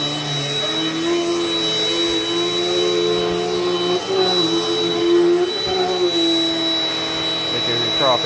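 Close and loud, a Dirt Devil Dynamite Plus upright vacuum with fixed height adjustment drones steadily across carpet, its motor whine shifting a little in pitch as the head moves and picks up dirt.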